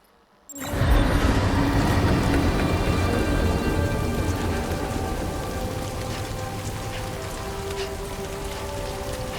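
Timefall rain in the video game Death Stranding 2 arrives abruptly after a near-silent moment, then settles into a loud, steady downpour with a low rumbling undertone that eases slightly over time.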